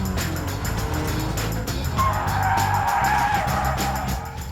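A Mazda Miata drifts hard, its engine roaring loud and close while tires squeal in a sustained, rising screech over the mechanical drone.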